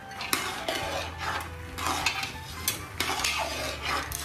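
Peanuts are stirred continuously as they fry in oil in a pan, giving scraping and rattling strokes of a utensil against the pan over a low steady background, close up and with no talk.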